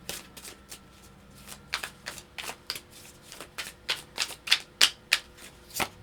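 Tarot cards are shuffled close by in a series of crisp, rhythmic riffles and taps that grow louder and more regular toward the end, with no talking.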